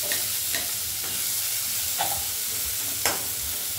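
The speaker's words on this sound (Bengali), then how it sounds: "এরকম কুচনো পেঁয়াজ মা এখানে একটু ভেজে নিচ্ছে" Chopped onions fry in a little oil after dried red chillies, sizzling loudly and constantly while a spatula scrapes and stirs in a few distinct strokes, close up and without speech.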